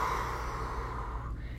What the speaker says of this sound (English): I'm gonna breathe through it again because it's still very tender.